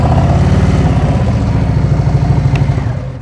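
A motorcycle engine rumbles steadily at low speed during a slow-speed maneuver, throttle held as the bike pulls up to a stop, with pulsing low-end exhaust that softens and fades at the end.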